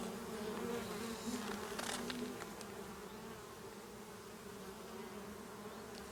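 Honeybees at a small nucleus hive make a close, continuous buzzing hum with steady drone tones, a little louder at first and then settling.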